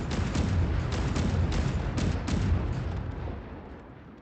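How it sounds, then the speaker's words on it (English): Multi-barrel cannon turrets in a video game unload a full salvo, a rapid string of heavy booming shots layered into a continuous rumbling barrage that fades away toward the end. "What you can do is you can just hit this thing and fire the full salvo of one, and then fire the full salvo of the next"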